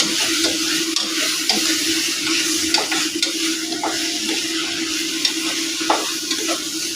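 Drumstick and tomato curry sizzles steadily in a pan while a spoon scrapes and stirs in repeated strokes, close and moderately loud.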